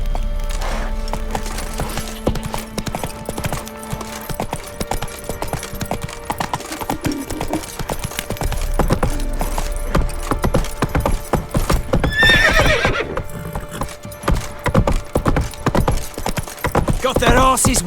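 A horse gallops in The Witcher 3: Wild Hunt, with dense rhythmic hoof clip-clops on hard ground, a loud whinny partway through, and game sounds and occasional speech mixed in.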